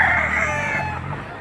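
A rooster crows at a chicken market in Lipa City, Batangas, one long loud call that holds close and clear before it trails off, with the clucking and murmur of other fowl underneath.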